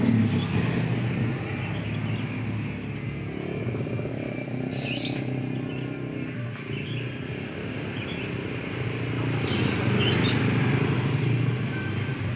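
A Honda PCX motor scooter's engine hums steadily nearby under outdoor ambience, with faint bird chirps in the background.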